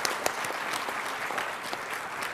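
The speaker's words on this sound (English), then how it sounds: "give them a clap" An audience gives steady applause for the panelists at the close of a panel discussion, a fairly quiet, even round of clapping from a modest crowd with a few sharper individual claps.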